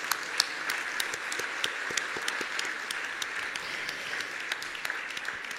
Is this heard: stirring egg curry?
no